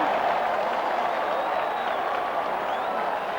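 A large crowd at a 1991 Ulster Gaelic football final between Donegal and Down roars and applauds after a great score, a dense, sustained wash of cheering with no clear break.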